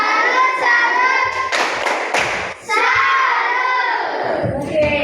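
A classroom group gives a rhythmic 'tepuk salut' clap, bursts of hand claps and thumps in a lively room with children's voices mixed in throughout.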